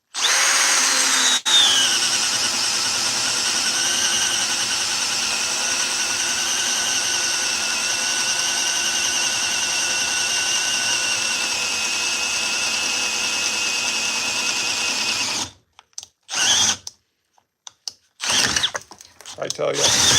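Milwaukee M12 subcompact drill boring an inch-and-a-quarter hole in speed 1, a loud steady whine with strained motor load running continuously for about fifteen seconds before cutting off into brief stuttering bursts and silence.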